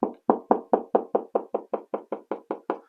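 Quick, even knocking of a knuckle on drywall, about thirteen hollow taps in a steady rhythm, close and moderately loud with no talking.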